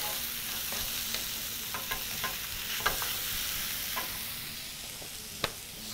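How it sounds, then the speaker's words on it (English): Liver searing in a hot pan for a Kenyan stew, a steady close sizzle with occasional scraping taps of a spoon as it is stirred, no voices. "we're going to proceed to seal our meat"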